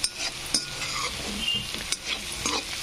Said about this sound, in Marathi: छानपैकी फ्राय होत आहे आपले मसाला।